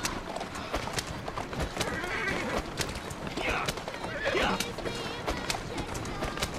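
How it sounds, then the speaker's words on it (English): A horse-drawn carriage rolls along in the video game Assassin's Creed Syndicate, with busy clopping hooves and wheel noise throughout, a horse's whinny rising briefly in the middle, and someone talking over it. "I love these little carriages."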